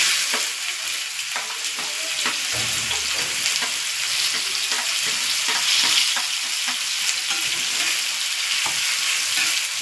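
Onion frying in a pan as it is added and stirred, a steady close sizzle with scattered crackles and spatula scrapes running throughout, no voices.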